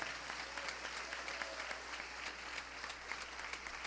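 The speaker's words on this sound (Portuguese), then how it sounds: "Pode dar uma salva de palmas para elas?" Faint applause from a church congress audience, a steady patter of clapping sustained throughout without any talk over it.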